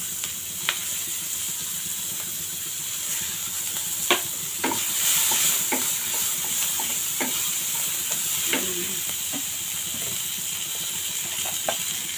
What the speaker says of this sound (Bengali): এই তেলেতেই আমি পেঁয়াজ কুচিটা ব্রাউন কালার করে ভেজে নেব।